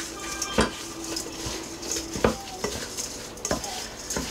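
Pieces of steak being tossed with hickory rub in a bowl, a soft wet stirring and shuffling broken by a few sharp clinks of utensil against the bowl.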